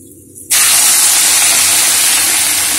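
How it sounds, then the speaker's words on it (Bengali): Washed Gobindobhog rice tipped into hot oil with fried tempering spices, a sudden loud hissing sizzle that bursts in after a brief quiet moment and then holds steady and close. "ফোড়ন ভাজা হয়ে গেছে, আমি এই তেলের মধ্যে এবার দিয়ে দেব ধুয়ে রাখা গোবিন্দভোগ চাল"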